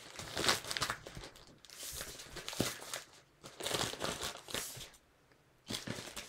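Paper being precreased for an origami porcupine and pressed into a mountain fold gives loud, close crinkling and rustling in several bursts separated by brief quiet gaps, with no talking.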